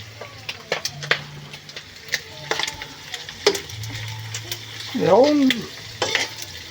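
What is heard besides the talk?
food frying and stirring in a pan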